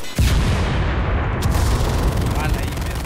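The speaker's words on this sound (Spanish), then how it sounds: "Estoy yo con los cañonazos." Cannon fire in the World War II shooter Enlisted, one sharp booming blast at the start and another at about 1.4 seconds, each followed by a dense roaring rumble of battle noise.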